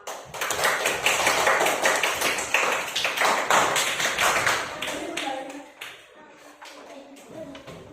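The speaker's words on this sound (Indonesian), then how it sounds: "Tepuk tangan untuk kelompok A." Students in a classroom applaud group A with steady, crowded clapping that holds for about five seconds, then dies away into quieter room noise and faint voices.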